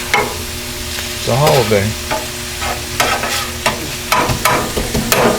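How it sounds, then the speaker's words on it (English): Cheesesteak meat sizzles steadily on a hot, level griddle in its own grease while a spatula scrapes and taps against the metal, close up; a voice speaks briefly. "I'm frying them up. Right? Frying up the meat."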